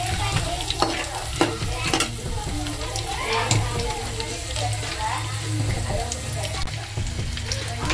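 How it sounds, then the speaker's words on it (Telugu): Dried red chilies sizzle in hot oil for pulihora while a utensil stirs and scrapes the pan, a steady close frying hiss with faint background voices. "తర్వాత కొన్ని ఎండుమిర్చి, ఇవి కూడా బాగా వేగాలండి ఎర్రగా."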